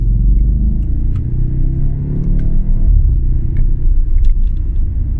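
A 331 kW Audi RS4 set to dynamic mode gives a deep, loud engine rumble that stays close and steady, swelling slightly as it pulls, with faint clicks over it.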